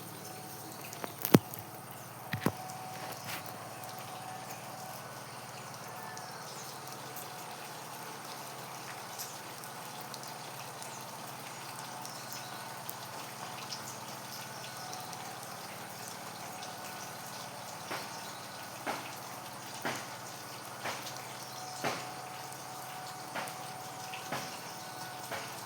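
Water poured onto potted plants in a terrace garden, a steady soft splashing and trickling with occasional small drips, moderately close and fairly quiet throughout, with no talking.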